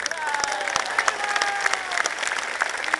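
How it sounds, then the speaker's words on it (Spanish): Crowd applause at a political rally for a pre-candidate in Tantoyuca: loud, dense clapping with scattered cheers and a few whistles, rolling on steadily close by. "Ese aplauso para todos ustedes."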